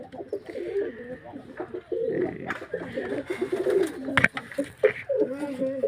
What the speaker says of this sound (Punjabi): ਆ ਕਬੂਤਰ ਆ ਸਾਰੇ ਐਤਕੀ ਦੇ ਪੱਠੇ ਆ ਇਹ